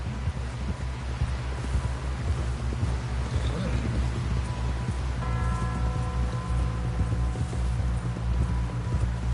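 Horse hooves clip-clop in a cowboy simulator video game, a rhythmic trotting patter over rustling ground and wind, with a musical tone entering partway and voices talking over it.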